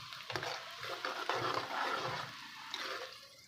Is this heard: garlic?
yes